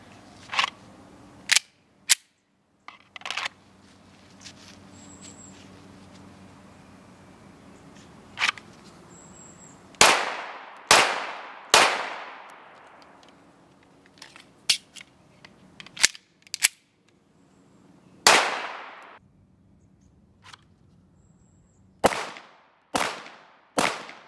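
Gunshots from a Canik TP9SFX pistol drawn from a competition holster, a dozen or so sharp cracks in uneven bursts with pauses and faint handling clicks between, loud and close.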